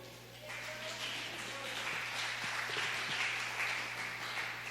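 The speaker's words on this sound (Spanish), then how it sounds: "un aplauso al Señor" Church congregation applauding during a service, a steady mass of clapping with a low hum underneath, fairly even and moderately loud throughout.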